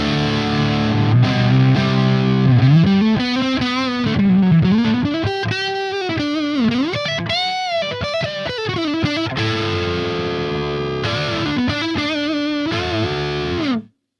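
Electric guitar played on the neck pickup through a Ceriatone AH 50 amp, with heavily distorted sustained chords and bends ringing out loud and continuous, then cutting off abruptly at the end.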